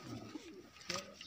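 A pet pigeon gives a soft, close coo, a brief low burbling call over quiet background, with a faint voice nearby.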